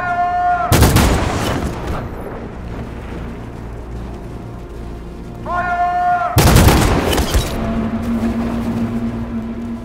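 Gunfire in the video game Detroit: Become Human: two loud, close bursts of shots, each with a long booming tail, set against ambient game sound and tonal effects.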